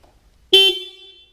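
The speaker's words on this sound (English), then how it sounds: "we'll try that and see if it honks" A single Yamaha FZ-09/MT-09 motorcycle horn honk blares suddenly after a brief quiet moment, loud and close, then tapers off over about half a second.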